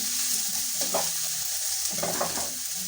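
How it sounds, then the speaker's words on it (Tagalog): Food being stirred in a hot frying pan, a steady sizzle running throughout with a few scraping strokes of the utensil cutting through, close and clear with no talking. "Haluin natin."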